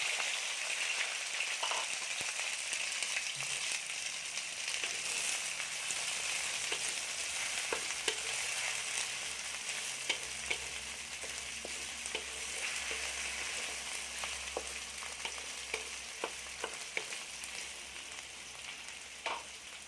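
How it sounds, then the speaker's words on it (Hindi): Okra (bhindi) frying in hot oil, a continuous crackling sizzle with scattered pops and occasional stirring clicks, close and even throughout nearly twenty seconds, no talk. "ऑयल हमारा गर्म हो चुका है, इसके अंदर हम भिंडी डाल के फ्राई करेंगे"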